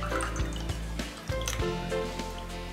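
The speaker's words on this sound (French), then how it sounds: "on va filtrer le Réjuveillac en premier." Rejuvelac, a fermented grain liquid, drips and trickles through the strainer of a teapot during filtering, with several distinct drops and liquid splashes close up over a steady background hum.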